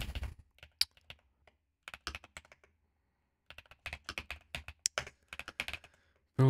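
Fast bursts of typing on a computer keyboard while build commands are entered, crisp close-up keystrokes in quick clusters separated by short pauses, with no voices.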